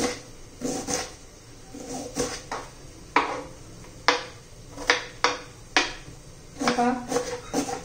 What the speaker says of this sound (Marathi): आता कांदा पण एकदम बारीक असा चिरून घ्यायचा आहे